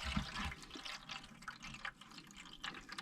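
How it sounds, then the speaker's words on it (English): Leftover water drains from the tub of a washing machine that won't empty, trickling and gurgling faintly out through a cut hose, alone and close by. "hopefully that'll drain the rest of the water that's in the tub"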